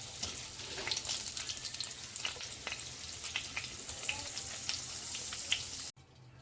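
Paneer cubes frying in hot oil in a pan for palak paneer, a steady close crackling sizzle with scattered sharp pops that cuts off abruptly near the end.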